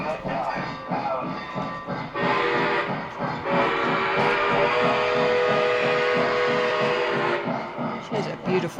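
A Lionel Milwaukee Road 261 model steam train running on a layout, a steady rhythmic clatter and chuffing rumble that holds throughout at close range, with a sustained tonal hum over it in the middle.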